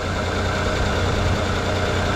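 A van's engine idles on a motorway stop after a loose small hose was fixed, a smooth, steady low rumble with no knocking or vibration, continuous and close.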